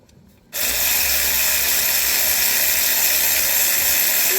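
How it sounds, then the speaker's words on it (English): Battery-operated electric ratchet spinning bolts out during an oil leak repair on a 2020 Hyundai Palisade, starting abruptly after a brief pause and then running as a steady, loud, close whirring hiss to the end. "slow paced electric ratchet time. Let's zap these out."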